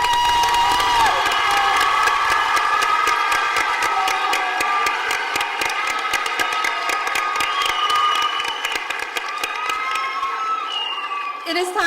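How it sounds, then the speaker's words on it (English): A school pageant audience claps and cheers loudly and continuously, with children shouting and whooping over dense, steady applause that tapers slightly near the end. "Let's give them all a big round of applause."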